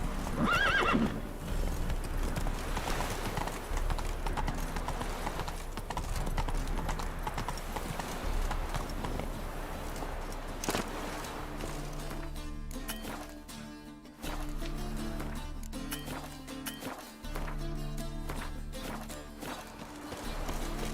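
Roach, the horse in Witcher 3, gallops with quick, steady hoof clip-clops and gives a whinny early on, and game music with rhythmic tones grows louder in the second half.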